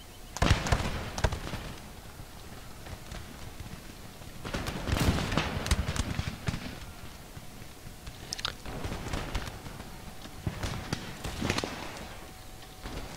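A militia musket volley in the Empire Total War game, heard as several bursts of crackling gunfire spread across the stretch at a moderate level, with no talk over it.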